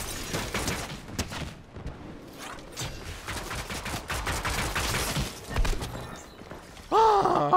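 Rapid video-game gunfire aimed at the player, dense overlapping bursts of shots rattling steadily for several seconds before a brief tonal sound closes it out.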